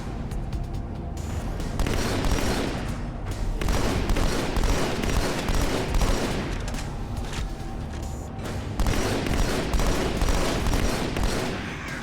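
Dense, continuous gunfire and explosions from the Halo 2 video game, rapid automatic bursts and booms rolling without pause, loud and close.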